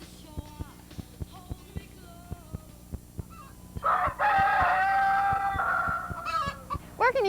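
A rooster crows loudly and close by in Fort Lauderdale, one long harmonic call with a final rising flourish, after a run of regular sharp clicks.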